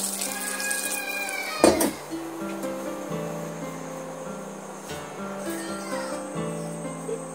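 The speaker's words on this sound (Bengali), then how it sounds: "এবার আমি এখানে পানি অ্যাড করে দিলাম।" Water pours into a pan of egg omelette curry in a steady, close rush, with a brief louder splash early on and then a continuous trickling flow.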